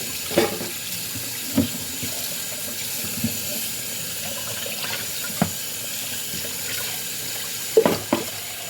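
A kitchen sink tap runs with a steady hiss while dishes are washed, broken by several sharp clinks and knocks of dishware scattered through the stretch; no one speaks.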